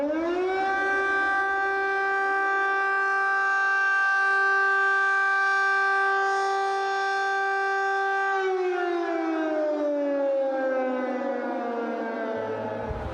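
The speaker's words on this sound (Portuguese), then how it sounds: "Mas hoje, logo cedo, as sirenes voltaram a tocar." An air raid siren sounds over Kyiv on a freezing morning, a loud sustained wail that holds steady for several seconds and then slowly winds down in pitch, with no other sound.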